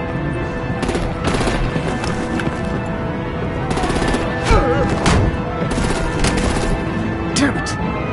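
Sustained battle din of rapid gunfire and heavy booms from a video game shooter, dense and loud with repeated bursts, with game voices heard now and then.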